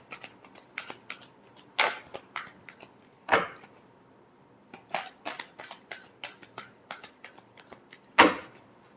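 Tarot cards shuffled by hand in a quiet room, a series of soft riffling bursts and taps in irregular rhythm, close and fairly quiet, without speech.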